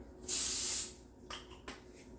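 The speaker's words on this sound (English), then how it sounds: "And as always, we're going to spray a little bit." A single sustained cooking oil spray hisses onto a non-stick pan for about half a second, bright and close, followed by a couple of faint clicks or taps.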